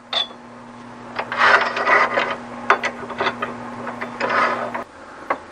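Metal lathe running at its lowest speed, a steady low motor hum carrying irregular clattering, ratcheting gear noise that rises and falls close by, then the hum drops out near the end.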